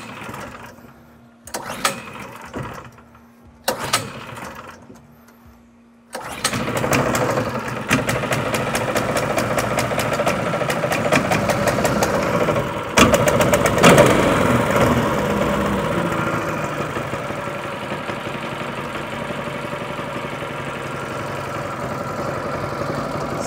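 Chinese mud motor on a PPF Wood Duck boat sputters through a few short attempts, then catches and runs continuously, a loud buzzy small-engine drone holding steady after startup.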